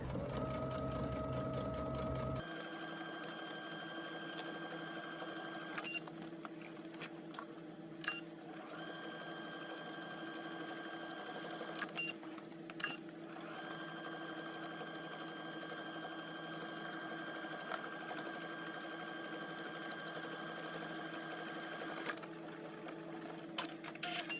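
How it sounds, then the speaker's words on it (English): A sewing machine stitches a skirt waistband in the ditch, running in long steady whirring bursts with brief pauses between passes, close and clear with no voices. "go ahead and stitch in the ditch or slip stitch the fold of the waistband facing to the seam of the waistband"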